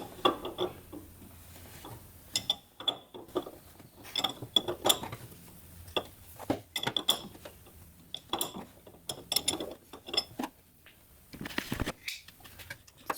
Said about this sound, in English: I'm just turning the alternator until I can get the rotor to number 1.